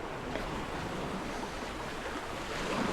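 Sea waves wash continuously on the seashore at Vaippar near Thoothukudi, a dense, steady roar of surf mixed with wind noise on the microphone, with no voices.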